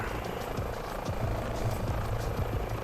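Helicopter in Microsoft Flight Simulator, a steady loud rotor and engine drone with a faint rhythmic blade chop, continuous and close throughout, with no talk.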